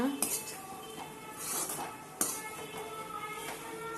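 Metal spoon clinking and scraping against a pan while stirring beetroot poriyal, a few soft taps and one sharper clink at a steady, quiet pace.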